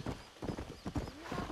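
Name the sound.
piebald horse hooves, Red Dead Redemption video game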